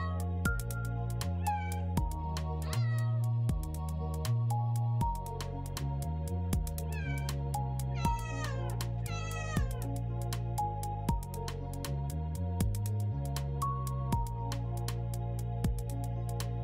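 Cartoonish cat meows from enemies in a PROCJAM 2018 game, repeated many times at an uneven rhythm over steady looping game music, fairly loud and close, with no talking.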